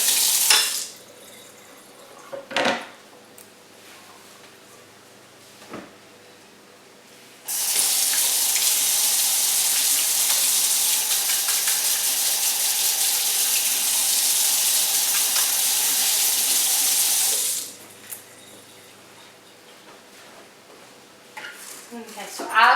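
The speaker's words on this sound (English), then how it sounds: "I'm going to rinse off our cutting board." A kitchen faucet runs steadily for about ten seconds, splashing water over a cutting board in a sink, with a few knocks and clatters before and after the flow.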